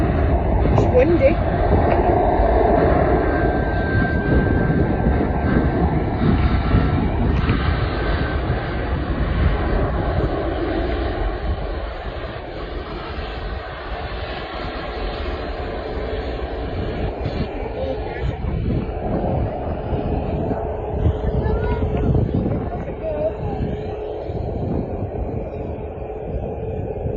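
A jet airliner passes at Manchester Airport on a windy day, a loud, steady engine roar that slowly fades and then swells again, with a person speaking over it.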